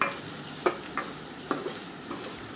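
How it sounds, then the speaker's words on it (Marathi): Ground paste for kaju green rice sautéing in a pan, a continuous close sizzle broken by several sharp spatula scrapes and taps spaced irregularly. "छान मिक्स करून घ्यायचं, 2 मिनिट परतून घ्यायचं."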